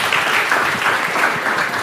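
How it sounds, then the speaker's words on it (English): A room of people applauds Nadia at the close of a physiotherapy welcome session, steady dense clapping at full strength throughout. "We give Nadia a round of applause."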